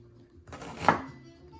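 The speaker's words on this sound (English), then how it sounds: "I'm gonna slice this as thin as I can" A sharp kitchen knife cuts a red onion into thin slices, giving one crisp chopping thunk against a board amid soft handling noise, close and fairly quiet with no talking.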